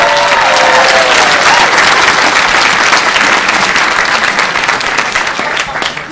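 A large audience applauds loudly at a magic performance during a keynote talk, a thick continuous roar of clapping, with a brief cheer or whistle near the start, that holds for about six seconds before tapering.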